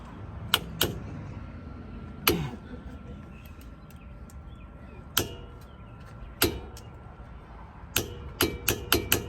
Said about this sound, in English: And see, it'll click like that when the 120 foot-pounds is reached.